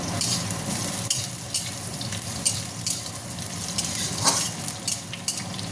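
Potatoes fry in oil that sizzles steadily in a pan while a utensil scrapes and stirs, with occasional louder clacks against the metal.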